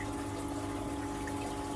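A steady wash of pumped water flows from an aquarium chiller's return pipe into a coastal foraged tank, a constant close gushing hum with no breaks.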